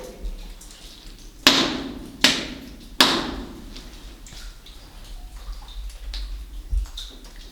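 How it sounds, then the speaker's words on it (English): Three sharp, hollow knocks strike a wooden chute in the No. 9 coal mine, spaced about a second apart, followed by faint dripping water and quiet ambient rustling in the tunnel. "Knock on the chute there."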